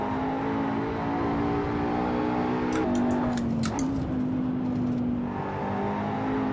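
Simulated McLaren 570S engine in Assetto Corsa, heard alone as a steady loud drone that dips and shifts pitch mid-clip with a brief burst of higher whine before settling again.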